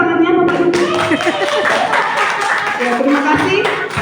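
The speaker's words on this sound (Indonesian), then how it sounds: "Tepuk tangannya Bapak Ibu." Audience clapping at an Indonesian school community gathering on positive school culture, a steady mixed patter of hands with laughter and voices over it, fairly loud and close throughout.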